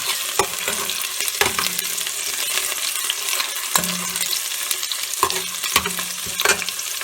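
Food fries in oil in a Dutch oven with a constant bright sizzle, broken by sharp metallic clinks and scrapes as it is stirred now and then, and no talking.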